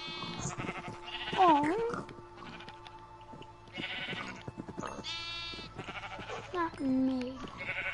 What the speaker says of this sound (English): I'm breeding sheep.